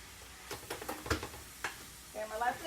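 Ground pork and cabbage cooking in a pan, with scattered stirring scrapes and clacks through the first half, then a steady soft sizzle building near the end.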